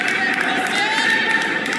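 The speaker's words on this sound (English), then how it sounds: "Crowd goes crazy down there out of that fight" Crowd noise at a live Free Fire esports match, a steady loud roar of cheering that fills the whole stretch without letup.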